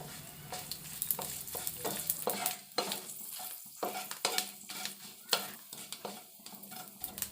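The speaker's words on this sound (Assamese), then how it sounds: "শুকান জলকীয়া আৰু পাঁচফোৰণখিনি অলপ সময় ভাজি ল'ম।" Dried chilies and five-spice seeds sizzle and crackle in hot mustard oil while a utensil stirs and scrapes the pan in irregular bursts, close up, with no voices.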